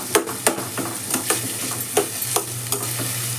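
Finely chopped onions fry in hot oil for a chicken keema balls gravy, with a soft constant sizzle broken by regular scraping stirs about every half second, close up and with no talking.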